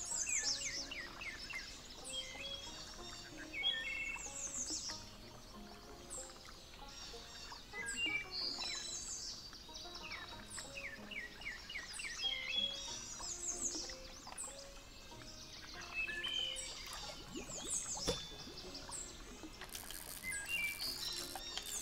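Constant bright bird chirps and tweets in the video game Spirittea, over a steady wash of ambient noise with ocean sounds, busy and fairly loud, with no talking.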